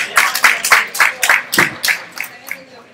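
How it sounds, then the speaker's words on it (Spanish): A small crowd claps rhythmically for a side judge at a 2016 powerlifting championship in Humanes de Madrid, brisk evenly spaced claps of moderate loudness continuing throughout. "Un aplauso para Raquel,"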